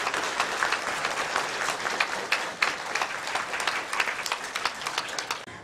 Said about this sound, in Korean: 우리 큰 박수로 축하하고 축복해